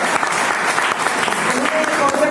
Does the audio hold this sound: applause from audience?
yes